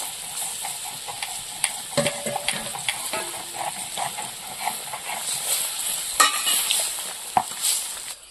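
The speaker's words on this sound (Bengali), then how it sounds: "ঝোলটা ফুটে উঠেছে, এবার ভেজে রাখা মাছগুলো দিয়ে দেবো।" Fried small fish go into a pot of boiling fish curry gravy, bringing a steady close sizzle and bubbling with scattered clinks and stirring scrapes.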